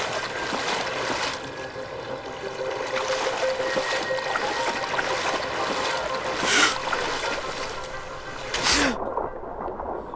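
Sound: character swimming in sea water in video game Dying Light

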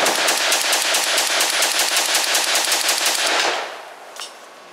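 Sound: CETME Model L rifle firing

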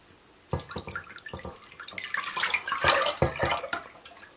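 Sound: pouring buttermilk into a pot

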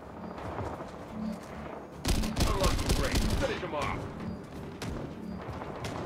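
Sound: gunfire in a PvPvE shooter video game

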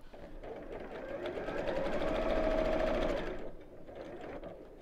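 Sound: sewing machine stitching along fabric edge

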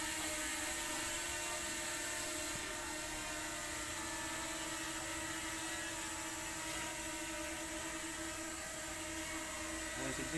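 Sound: DJI Mini 2 drone flying

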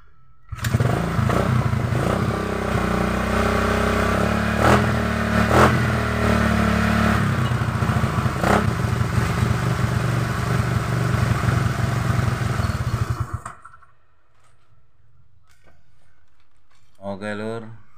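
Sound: Honda Vario 110 motorcycle engine starting and running

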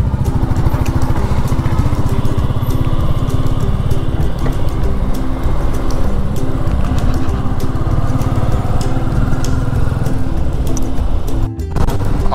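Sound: motorcycle engine during a bike ride

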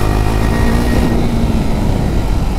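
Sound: KTM RC 390 motorcycle setting off at full power

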